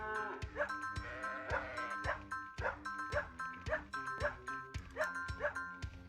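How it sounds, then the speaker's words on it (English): Dog barks from the Lassie video game, repeated in a steady rhythm roughly every half second, loud and close over game music and sheep-like bleats. "I don't want to spam bark too much"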